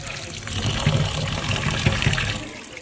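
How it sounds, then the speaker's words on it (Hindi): Rinsing lentils in water for khichdi, a steady sloshing and trickling wash with splashy swirls close by, continuous throughout without talk. "अब दाल को धो लेते हैं।"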